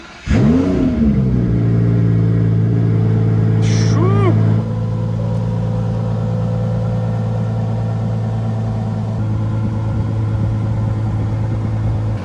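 A salvage-auction supercar engine cranks and fires up with a loud rising rev, then settles into a steady, deep, close idle that continues to the end; a voice speaks briefly over it.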